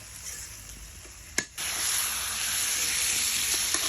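Boal fish bhuna sizzles on a clay stove, a steady bright hiss broken by one sharp clack of a utensil, then a louder continuous sizzle, close and without talk.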